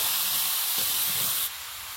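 Water poured onto pumpkin cooking in a hot pan bursts into a loud, close, steady sizzling hiss. The hiss drops abruptly partway through and then continues more softly.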